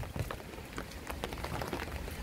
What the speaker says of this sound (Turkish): Ben yaşıyorum diye hala yağmur yağıyor.